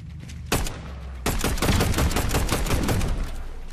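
Rapid automatic gunfire in the Fortnite video game, aimed at a portal in a ranked 2v2 match: a short burst, then a long dense stream of loud, close shots.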